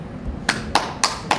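Four sharp, evenly spaced claps ring out one after another at a memorial ceremony, close and clear over a low background hum.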